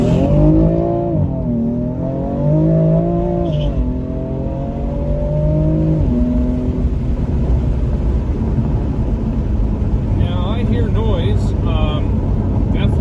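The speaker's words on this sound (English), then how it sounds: "All right, so we're going to go kind of a full throttle here." A BMW M4 (F82) engine with an aftermarket mid-pipe revs up hard under full throttle, pitch climbing through several gears with brief dips at each shift, loud and close from inside the cabin.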